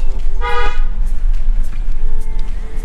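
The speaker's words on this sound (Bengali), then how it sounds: "হর্ন তো বাজাও" A car horn gives one short, close honk on a Himalayan mountain road near a monastery, over a low, steady engine rumble.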